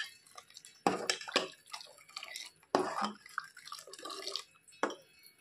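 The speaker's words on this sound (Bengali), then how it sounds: "তো এখন আমি একটু ভালো করে নেড়ে চেড়ে দিচ্ছি।" A spoon stirs milk and jaggery in a pan, giving scattered wet clinks and liquid sloshes at an uneven rhythm, fairly quiet and close.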